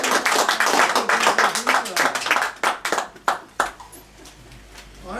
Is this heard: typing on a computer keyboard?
no